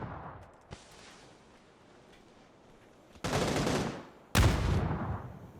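Gunfire in a PUBG esports match: a faint distant shot early, then two loud close bursts of rapid fire, each a dense crackling volley lasting about a second.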